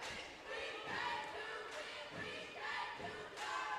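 Cheerleaders at a high school basketball game, Lanier County Bulldogs against Hamilton, chanting rhythmic cheers in repeated bursts from across the court, fairly distant and faint under a nearby voice talking.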